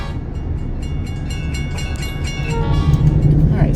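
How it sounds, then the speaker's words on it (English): A train rolls past close by with heavy low rumbling and clanking rail noise, growing louder toward the end as a horn-like tone sounds. "Oh look, a train."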